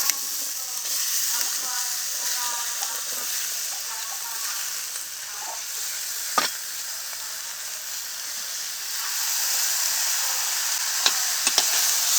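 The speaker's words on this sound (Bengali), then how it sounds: "কড়াইটা গরম করে নিয়েছি এখন মাখানো মাছ ও সবজিটা কড়াইয়ের ভিতর দিয়ে দিচ্ছি" Marinated fish and vegetables fry in a hot wok over a stove for fish chachchari, with a continuous loud sizzle, occasional sharp stirring clicks and crackles, and no talking.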